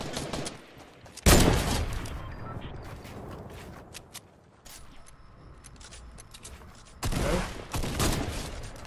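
Sniper rifle fire in a video game: two loud, sharp shots about six seconds apart, each with a ringing tail, over a low hum of game ambience.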